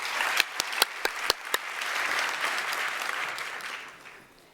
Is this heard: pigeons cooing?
no